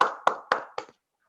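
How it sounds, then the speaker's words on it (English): A few people clap four times for a speaker at an international youth conference, the claps sharp and somewhat irregular, fading quickly into silence. "So let's give him a round of applause."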